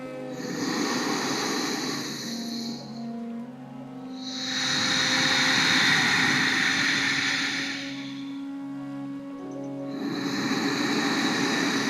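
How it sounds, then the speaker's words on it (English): Slow, audible ujjayi yoga breathing through the throat with a soft oceanic hiss, alternating long inhales and exhales, close and steady, with a faint hum underneath. "try and come into what we call ocean breath or ujjayi breath"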